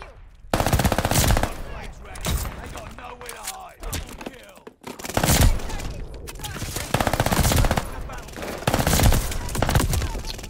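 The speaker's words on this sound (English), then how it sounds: "Team is shooting me, bro." Call of Duty: Vanguard gunfire with an Armaguerra 43 submachine gun: loud rapid automatic bursts come in several long volleys with brief gaps, close and dominant.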